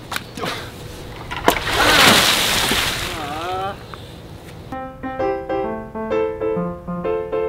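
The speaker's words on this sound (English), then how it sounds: "Water balloon fight." Water balloons bursting and splashing in a backyard water balloon fight, a sharp pop and a loud splatter of water followed by sloshing, then voices talking over short musical tones.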